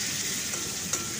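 Dry spices with turmeric and a little water are stirred in a pan, producing a brief, steady sizzle and wet scraping up close.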